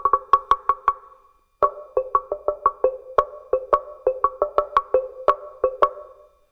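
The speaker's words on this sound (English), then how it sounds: "The side sounds for this drum are pretty cool." Rapid runs of bright wooden knocks from the side tones of a small African log drum, two alternating pitches played in quick patterns with a brief pause, close up and without voices.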